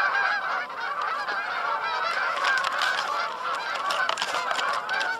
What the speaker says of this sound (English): Even the Canada geese are saying